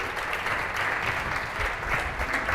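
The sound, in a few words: audience applause for candidates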